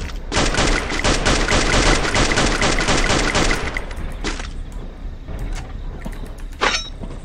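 Gunfire in the Free Fire battle royale game on the Kalahari map, with a loud rapid automatic burst for several seconds, then scattered single shots trailing off.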